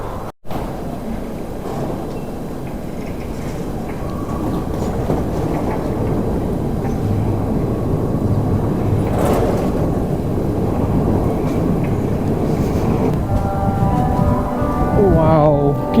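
A Moscow Metro train rumbles steadily and grows louder as it runs through the station, a dense continuous roar with a sharp click near the start and a brief screech near the end.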